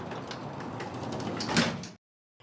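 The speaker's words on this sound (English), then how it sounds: "Patrick pressed the button, and the doors closed." Lift doors sliding shut with a continuous mechanical rush that builds slightly and then cuts off abruptly into silence, followed by a faint brief sound.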